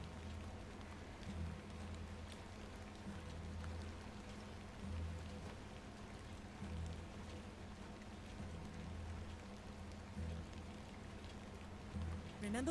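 Steady rain falls in a rural village scene of the game The Excavation of Hob's Barrow, a soft continuous patter with a low rumble underneath, faint and unbroken throughout.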